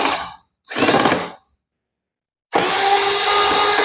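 Short bursts of a small screw being driven out of a laser projector's casing come first, then a pause, followed by a steady, harsh whirring noise, close and loud.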